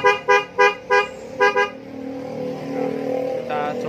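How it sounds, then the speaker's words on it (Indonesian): Denso horn fitted to a Yamaha NMAX scooter sounds in a series of short, loud beeps, six quick toots in an uneven rhythm, followed by a low idling hum with faint background noise. "ini klaksonnya pakai Denso"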